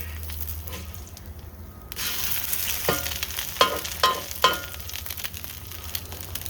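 Spam slices sizzling in a hot pan just after being flipped, a steady close frying hiss with a few sharper crackling pops partway through, no talking.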